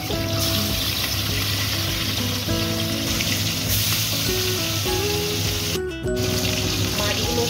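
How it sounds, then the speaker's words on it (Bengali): Fish rubbed with salt and turmeric sizzles in hot oil in a kadai, a loud, continuous, hissing crackle close up with brief faint background talk. "তেল গরম হয়ে গেছে, কড়াইতে মাছ ভেজে নেব।"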